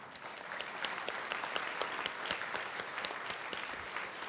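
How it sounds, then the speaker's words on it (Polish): At a concert of opera pieces, a room full of listeners applauds in a dense, continuous burst of clapping, fairly soft overall but steady from start to finish. "Uważam, że to jest miejsce na brawa."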